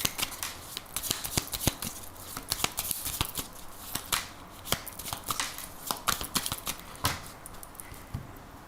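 Tarot cards being handled and shuffled close up, a steady run of crisp riffling flicks and soft card taps with no talking.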